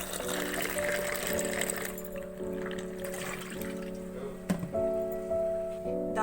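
Water pours into a bowl of lentils being washed and set to soak for dal gosht, splashing and trickling near and loud with some clinking, then thinning to lighter dribbles.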